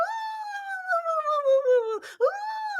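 A person imitates a dog's mournful howling cry, a long falling vocal wail that dips, breaks briefly, then rises again, loud and close with no other sound.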